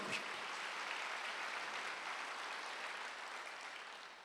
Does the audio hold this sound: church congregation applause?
yes